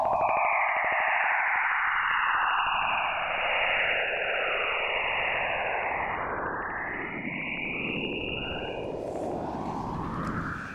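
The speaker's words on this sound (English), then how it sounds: "Brad, some spooky sounds being picked up by the Juno spacecraft" Jupiter sounds recorded by the Juno spacecraft: dense, eerie electronic swooping tones, rising and falling continuously over a loud static-like wash, with no talk.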